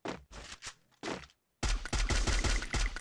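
Gunfire in Free Fire coming from the left: two short automatic bursts, a pause, then a longer sustained volley of rapid, punchy shots, loud and close with no talking.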